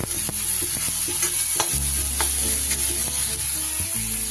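Spices and tomato stir-fried with a spatula in hot oil for Bengali masoor dal tadka: steady close sizzling and frying with repeated scraping stirs throughout, no talking.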